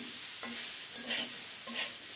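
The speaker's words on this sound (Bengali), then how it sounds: "ভালোভাবে নেড়ে মিশিয়ে দেব, তারপর ঢাকা দিয়ে রান্না করব" A spoon scrapes through soaked, drained sago with potatoes, salt and green chilli in a pan, making a few rhythmic stirring strokes over a soft, steady sizzle.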